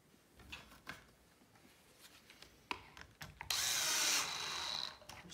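A few scattered knocks and taps of handling parts, then a short loud burst of a power drill driving screws into pocket holes of a wooden shoe bench, whirring for about two seconds before stopping.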